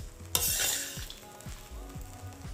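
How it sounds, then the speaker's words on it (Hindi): Poha is mixed gently in a pan: a sharp scrape opens, then slow, evenly spaced soft stirring strokes over a faint sizzle, with no talking. "अब पोहा बहुत डेलिकेट होता है तो इसको हम आराम आराम से मिक्स करेंगे, be very gentle with it."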